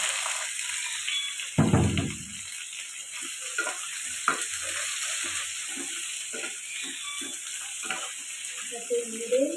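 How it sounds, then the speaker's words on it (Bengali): Fried vegetables for Bengali sukto are stirred in a pan, a spoon scraping with soft sizzling and steam hiss throughout, one louder knock near the start, no voices. "একটু নেড়ে নিয়ে একটু অল্প করে সটে করে নিতে হবে"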